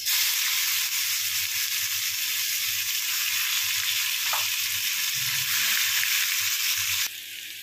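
Chopped onions hit hot oil in a pan and fry with a steady, loud, continuous sizzle, with a brief stir or clatter partway through and a slight drop in level near the end; no one speaks.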